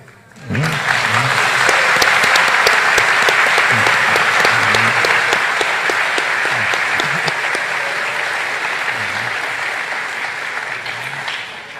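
An audience breaks into loud, sustained applause after a talk on gender ideology, a dense wall of clapping starting abruptly and holding steady for over ten seconds before easing slightly.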